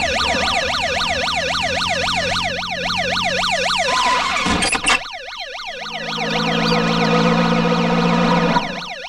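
A wailing ambulance siren sweeps up and down continuously and loudly, briefly interrupted by a sharp burst before it resumes, with a low engine rumble underneath.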